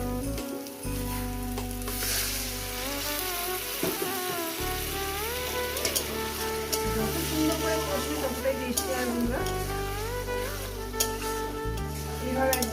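Potatoes and katla fish sizzle steadily in a hot pan as they are sautéed for a spicy curry, a loud continuous frying hiss with occasional stirring scrapes and a low background hum.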